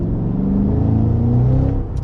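A Cadillac CT5-V Blackwing super sedan accelerates hard in second gear, its engine giving a loud, close, steady rising roar that eases off at the end.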